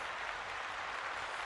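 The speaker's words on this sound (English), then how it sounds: "let us give Rex a big old round of applause" Continuous applause-like clapping during a livestreamed tabletop game review session, a dense wash of claps at moderate volume with no talk over it.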